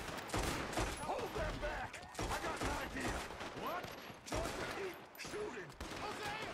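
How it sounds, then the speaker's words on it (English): Dense gunfire fills a Red Dead Redemption 2 shootout, a steady loud fusillade of overlapping shots running throughout with no break, while someone talks over it. "Oh, I'm shooting."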